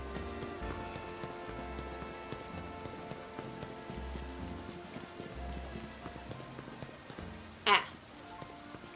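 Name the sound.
rain in video game Pokémon Legends: Z-A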